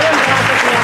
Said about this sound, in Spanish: ¿Me despedís con un aplauso?